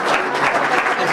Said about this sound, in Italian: Un applausino.